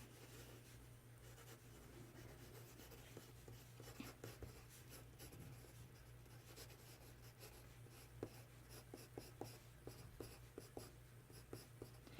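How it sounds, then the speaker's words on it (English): Pencil on paper sketching a quick gesture figure against a timed count, a steady faint scratching with small tick-like strokes over a constant low hum. "put your man in front of you, draw him"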